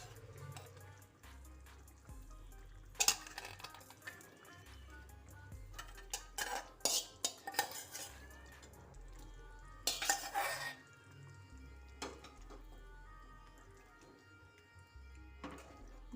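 Onion and capsicum curry being stirred in a pan, with intermittent metallic scrapes and clinks of a spoon against the pan over a low background hum, some bursts louder and denser than others.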